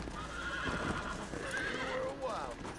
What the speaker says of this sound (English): Looks like we're just trying to mount this stallion or horse